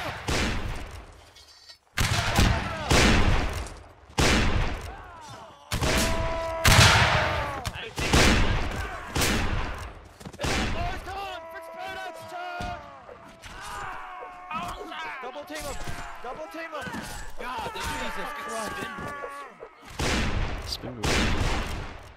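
Musket volleys crack out in a video game battle, ragged bursts of massed gunfire in repeated loud clusters with echoing tails, mixed with shouted voices and clattering between volleys.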